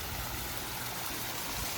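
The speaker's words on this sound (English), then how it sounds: "Here's the waterfall a bit more properly." A waterfall pours off a cliff edge, making a constant, even rush of falling water with no pauses.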